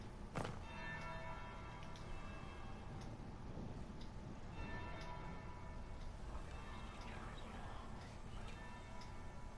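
A church bell tolls the third bell in the Dragon Age video game, with several resonant strikes ringing out over a steady bed of game ambience and faint ticking.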